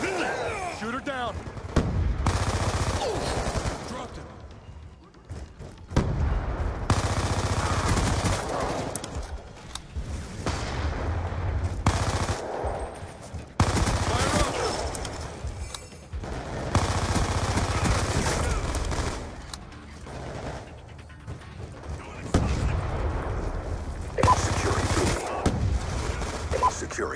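Bursts of automatic gunfire and explosions in a first-person shooter game, Domination mode, come in loud repeated waves separated by brief quieter gaps, with game voice lines mixed in.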